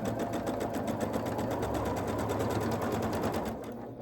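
Quilt block pieces fed through a sewing machine in one continuous, steady run, a close, fast mechanical whir that eases off slightly near the end.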